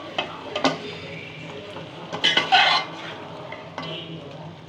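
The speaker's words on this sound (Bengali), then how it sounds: "এখন মশলার সাথে এবং মাংসর সাথে ভালো করে মিশিয়ে নিব।" Spoon scraping and clinking in a pot as cumin powder and other spices are worked into pieces of desi chicken for a spicy curry, with a few sharper knocks against the metal and a soft background hum.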